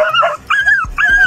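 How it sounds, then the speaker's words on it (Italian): A dog fighting a marmot gives loud, close yelping whines in three quick bursts, each one rising and then sliding down, with brief gaps between them. "Il cane e la marmotta litigano."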